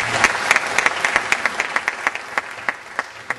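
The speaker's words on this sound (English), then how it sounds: "So give yourselves a round of applause." An audience applauds at a teachers' hall of fame event, a brisk burst of clapping with distinct individual claps, strong at first and gradually thinning out.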